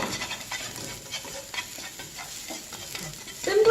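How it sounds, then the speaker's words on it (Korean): Drained zucchini stir-fries over high heat in hot oil, with a close, crackling sizzle and scraping stirs, and a louder clatter at the very end. "이렇게 물기를 제거한 호박을 넣고 볶아주세요."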